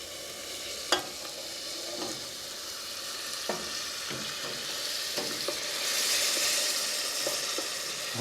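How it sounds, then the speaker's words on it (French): Broth is poured little by little into a hot pan holding venison escalope with mushrooms, setting off a steady sizzle with soft stirring clinks and a few sharp taps, with the hiss swelling toward the end. "Voilà notre bouillon que je vais incorporer petit à petit."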